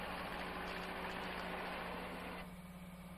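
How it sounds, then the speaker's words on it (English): An asphalt paver's engine idles on a hot-mix paving job site, a steady low mechanical rumble with faint vibration that drops slightly in level near the end, with no voices. "now let's look at the paver or laydown machine."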